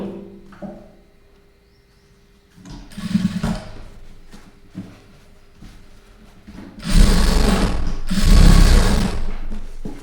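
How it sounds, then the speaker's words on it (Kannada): A sewing machine stitches a cloth lining in bursts, with quiet stretches of handling between short runs and two long, loud close runs of rapid mechanical whirring near the end. "ಹೊಲಿಗೆ ನಾನು ಯಾವ ಸೈಡ್ ಹಾಕ್ತಾಯಿದ್ದೀನಿ, ಎಲ್ಲಿ ಹೊಲಿಗೆ ಹಾಕ್ತಾಯಿದ್ದೀನಿ"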